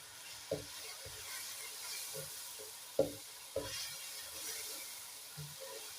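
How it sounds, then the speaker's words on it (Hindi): Soft, steady sizzling of chicken liver frying in a pan, broken by a few sharp knocks and scrapes of stirring. "कलेजी को मैंने कुकर में नहीं किया, मैं यहाँ पे भून लूंगी।"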